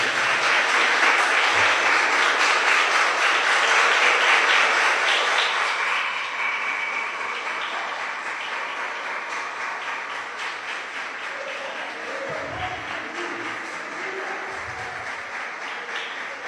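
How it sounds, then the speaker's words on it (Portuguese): A church congregation applauds steadily, loud at first and gradually easing off into softer sustained clapping with a faint voice or two underneath. "Você pode aplaudir a Jesus, amém?"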